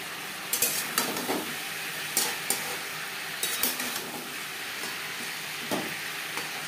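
Papaya pieces fry with salt and turmeric in a pan, a steady soft sizzle broken by sharp scraping stirs and occasional spatula clinks against the metal.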